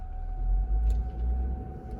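An off-road vehicle engine climbing a steep, rocky mountain trail in 4 low gives a steady low rumble with slight swells, close and continuous, and no voices.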